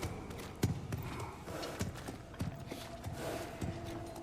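Horse hooves clip-clop slowly on hard ground in God of War Ragnarok, a steady, close, fairly quiet rhythm of single knocks.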